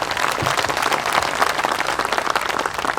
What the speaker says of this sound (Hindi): एक बार तालियां बजाकर मुझे माहौल दीजिएगा।